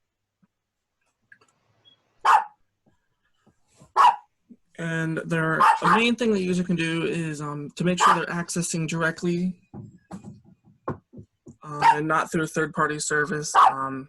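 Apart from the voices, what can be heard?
dogs barking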